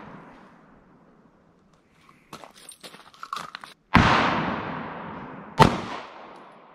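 Gunfire at an outdoor shooting range: two loud, sharp gunshots a couple of seconds apart, each with a long echoing decay, preceded by quiet handling clicks and rattles.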